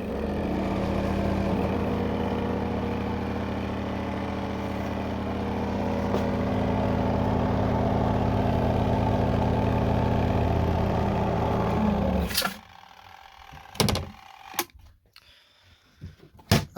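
A Castway mini portable twin-tub washer and dryer runs its spin cycle with a steady mechanical hum and whir for about twelve seconds, then cuts off abruptly, leaving a few scattered clicks and knocks.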